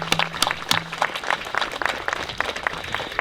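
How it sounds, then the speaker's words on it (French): An audience at a Remembrance Day commemoration claps steadily and fairly close, with dense overlapping handclaps that continue evenly through the short stretch. "On les applaudit aussi"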